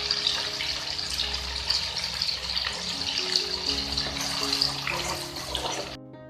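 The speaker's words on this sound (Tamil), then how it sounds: "இப்ப பட்டர் ஃபுல்லாவே மெல்ட் ஆயிருச்சு. இன்னுமே இதுல சலசலன்னு சத்தம் கேக்குது பாருங்க." Melted butter simmering in a pan as it cooks down into homemade ghee, giving a steady, continuous bubbling and sizzling hiss that stays fairly even, then cuts off abruptly near the end.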